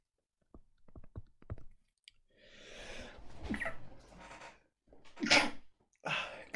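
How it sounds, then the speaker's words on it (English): A single person's sneeze picked up close on a microphone, preceded by a few clicks and breaths, then a sharp loud burst followed by another short explosive release. "I just sneezed there."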